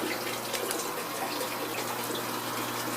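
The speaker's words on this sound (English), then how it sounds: "I'll show you the flow, the amount of bubbles that I like to get" Four air stones bubbling hard in a deep water culture hydroponic reservoir, a steady vigorous rushing fizz of water and air, continuous and close, with no voices.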